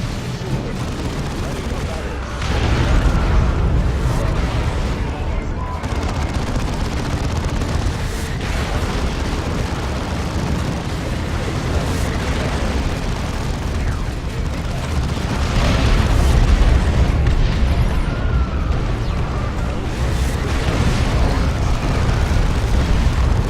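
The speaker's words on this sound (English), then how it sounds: "Is that your artillery strike?" Artillery strike explosions in the Dawn of War 2 strategy game rumble as dense, continuous low booms and blasts, loud and sustained with a swell partway through, under players' talk.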